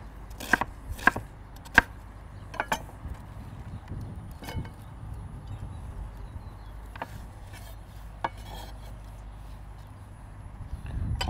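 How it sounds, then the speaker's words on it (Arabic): A knife slices cabbage thinly for a cabbage and lettuce mayonnaise salad, giving scattered sharp chops on a board with uneven pauses and a low background murmur. "نحاول بس نقطع بقى الكرنب رفيع شويه"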